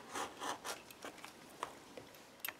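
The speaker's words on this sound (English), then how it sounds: "I'm just going to go around my book tile and cut" An X-Acto knife slices around a tile set into the pages of an altered book, giving a few quick scratchy strokes at first, then sparse soft ticks and scrapes, close and quiet with no talking.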